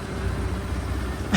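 A tractor engine drones steadily at close range with a low, rough, continuous rumble, with no voices over it.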